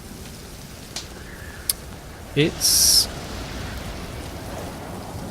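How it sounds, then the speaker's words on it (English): Steady hiss of rain falls in the survival video game Stranded Deep, indoors beside a fire, a constant wash broken by a few brief clicks and a short voiced exclamation. "Whoa, the rain. Is it raining indoors?"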